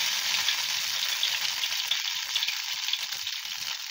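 Ghevar batter hits hot ghee and fries in a loud, dense, continuous sizzle, close and steady throughout, with no talking over it.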